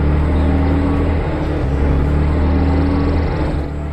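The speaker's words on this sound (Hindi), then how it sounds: "ऑफिस के लिए अपनी गाड़ी से जा रहा होता है" Inside a car driving along a road, a steady engine and road drone hums continuously, loud and even, with a low tonal rumble throughout and no voices.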